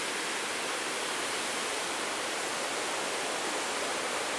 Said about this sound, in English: We'll see Brandywine Falls. It's supposed to be a very beautiful waterfall here in Ohio